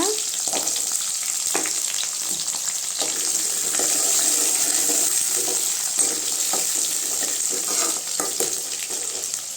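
Onion and garlic sizzle and crackle steadily in a hot pan while a mango vathal kuzhambu is being cooked, with occasional stirring clicks and no talk.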